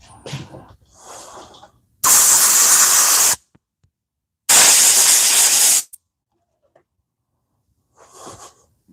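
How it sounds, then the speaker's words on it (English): Carb cleaner and compressed air blast through a motorcycle carburetor in two loud, close hissing bursts of over a second each, separated by silence, with softer brief sprays before and after. "let's go ahead and just throw a little carb cleaner at it and blow it out with compressed air just to say we did it"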